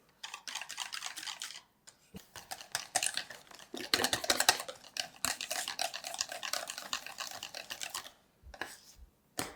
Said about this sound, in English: Keep whisking and see what's going to happen here.